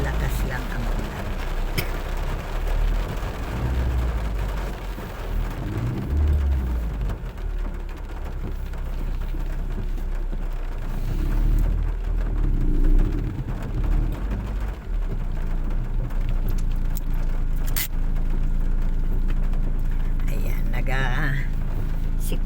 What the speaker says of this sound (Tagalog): Malakas lang ang ulan.